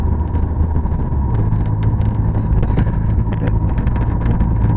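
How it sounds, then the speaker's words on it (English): A road vehicle travelling between Ziguinchor and Bissau, its engine droning loud and steady from inside the cabin with road rumble and intermittent rattles, no one speaking. "So the vehicle is driving east"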